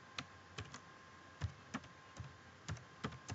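Keys on a computer keyboard are pressed in short, irregular taps, about a dozen quiet clicks spaced unevenly, heard faintly and close with no talking.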